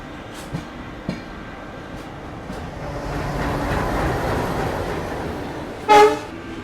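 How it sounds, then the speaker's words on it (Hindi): An AC express train creeps through Daund railway station at about 10 km/h with a low rolling rumble that swells mid-passage, faint rail clicks, and a short loud horn blast near the end. "बिल्कुल ये 10 की स्पीड में हम डॉन्ड रेलवे स्टेशन को स्किप कर रहे हैं"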